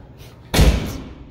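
Door at a Crockfords LXR resort hallway slamming shut once, a loud close thud with a short fading rattle after a quiet moment, and no talking.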